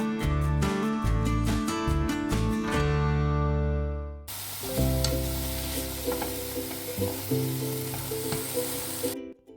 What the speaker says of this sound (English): Sauté the chanterelles in a pan over medium heat.